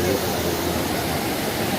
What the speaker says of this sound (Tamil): பாருங்கள் எவ்வளோ இறைச்சலாக தண்ணி விழுந்துட்டுருக்குன்ட்டு